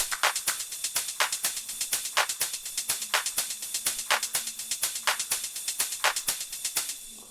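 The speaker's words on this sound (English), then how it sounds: "the drums from All Elements sound like this" A melodic techno drum loop from the All Elements pack, steady hi-hat and percussion hits in a driving even pulse with a bright, prominent ride cymbal wash, moderately loud and alone.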